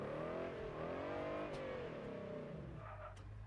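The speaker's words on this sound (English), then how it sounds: "The car sounds great." A car engine revs in the Test Drive Unlimited Solar Crown driving game, a loud, steady, close-up engine drone whose pitch wavers up and down as the throttle shifts, with no talk over it.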